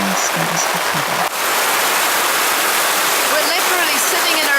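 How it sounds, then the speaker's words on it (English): Heavy tropical rain deluge pours down in the Tanzanian bush, a dense, loud, steady roar of water hitting surfaces, with a few brief voices near the start. "this time the deluge starts"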